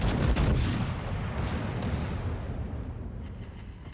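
Secondary guns of the German battleship Schlieffen in the World of Warships game, a fast burst of booming shots at the start that gives way to a dense, rumbling roll of distant gunfire.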